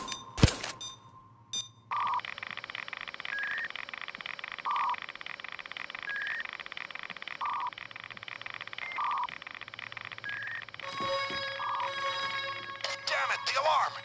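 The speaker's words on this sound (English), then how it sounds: "Damn it, the alarm! The whole house knows you're coming now!" A repeating electronic alarm from the Payday heist game, a steady sustained tone with regular pulsing beeps cycling throughout, after a brief sharp noise at the start; a voice can be heard faintly beneath.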